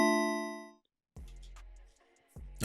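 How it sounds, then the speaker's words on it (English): A dark Christmas bell synth patch built in Omnisphere and ElectraX, with about a one-second release: a sustained bell chord rings and fades, then a deeper struck tone swells and a third strike enters near the end. "that usually sounds pretty good for bells"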